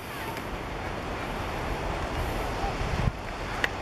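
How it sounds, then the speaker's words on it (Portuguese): Strong wind blowing across a beach in northern Portugal, a steady loud roar buffeting the microphone with surf underneath, rising slightly toward the end with a couple of sharp gusty knocks. "porque o vento aqui é muito forte"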